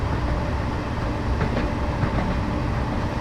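A Class 170 diesel multiple unit in Train Simulator 2015 coasting with power idled at about 20 mph on the Perth to Dundee route, giving a steady, even rolling rumble of wheels on rails with faint clicks and no voices.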